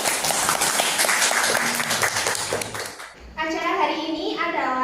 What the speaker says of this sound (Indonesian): mari kita berikan tepuk tangan yang meriah kepada semua orang yang sudah hadir pada pagi hari ini